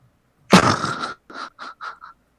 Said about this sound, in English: It's like heavy breathing or something.